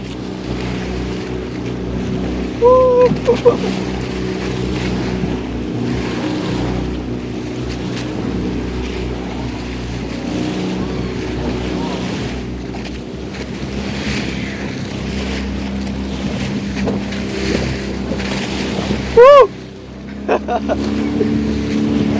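Sea waves and a strong current wash against a boat off Lovina beach in Bali, with a continuous motor drone, splashing water and wind buffeting the microphone, and brief squeaky creaks twice.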